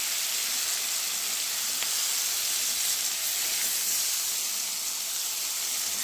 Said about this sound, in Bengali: এবার আমি বাকি পেস্টটা তেলের মধ্যে ছেড়ে দিচ্ছি